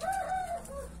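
A chicken gives a short, loud, strained squawking call, rising and then trailing off, up close with no talking.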